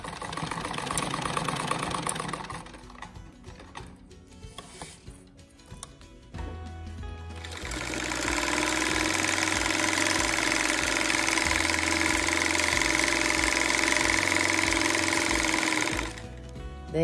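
An old sewing machine stitches a simple pillowcase: a few short bursts of stitching, then a steady mechanical whirring run of about ten seconds, close and even, with no voices.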